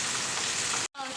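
Rain during a sudden windy storm, a dense steady hiss of drops on surfaces that cuts out briefly near the end and returns, with no one talking.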